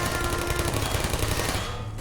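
Automated turrets firing in the Portal video game, a dense rapid rattle of gunfire sustained for a couple of seconds before cutting off, loud and near.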